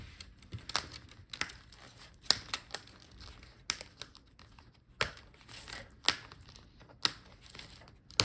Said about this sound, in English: Sometimes you have to wiggle this plastic part to disconnect all the clips